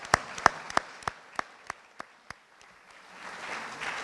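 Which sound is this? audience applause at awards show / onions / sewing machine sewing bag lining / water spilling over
audience applause at awards show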